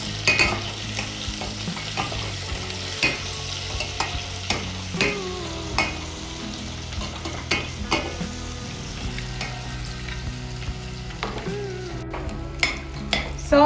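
Onion frying in plenty of oil for a meat stew, stirred until golden brown: a constant bright sizzle close by, with frequent spoon scrapes and clinks against the pot.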